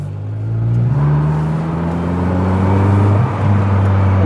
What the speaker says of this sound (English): Lovely, sweet sounding engine.